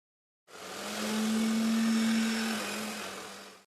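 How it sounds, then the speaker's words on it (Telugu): A kitchen mixer grinder whirs loudly for about three seconds as it grinds corn kernels with chilies, garlic and onion, a steady motor drone that starts abruptly and cuts off. "ఈ విధంగా అయితే మిక్సీ పెట్టుకోవాలి"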